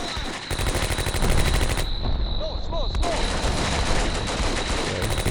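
Dense, continuous gunfire from soldiers in the video game Combat Mission: Beyond Overlord, loud rapid bursts and overlapping shots with a brief lull in the middle, then the firing resumes without pause.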